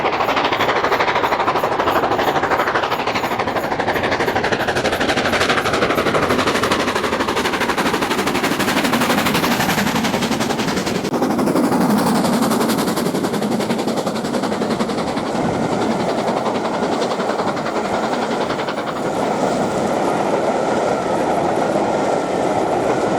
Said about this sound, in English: we see LMS Black 5 44932 enter Dainton Tunnel with the Paddington to Plymouth section of the tour, with West Coast Class 47 47802 providing some useful banking at the rear